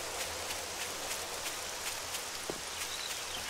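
Steady rain falls in the video game 7 Days to Die, a soft, even hiss of drops with occasional faint patters and no voices.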